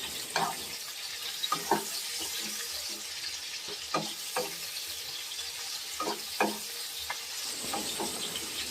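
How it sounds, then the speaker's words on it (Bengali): Ginger paste and spices stirred in a frying pan, a steady sizzle of oil under intermittent scraping strokes of a spatula, close and fairly quiet. "আদা বাটাটা দিয়ে সুন্দরভাবে একটু নেড়ে নেব"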